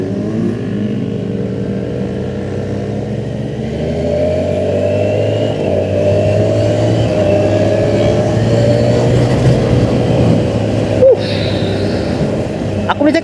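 A Kawasaki Ninja 1100SX SE sport touring motorcycle engine hums steadily at low revs around 1,000–2,000 rpm in a high gear while riding, a smooth continuous drone with road and wind rumble, and a voice talking over it.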